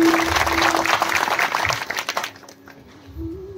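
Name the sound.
audience clapping at a kirtan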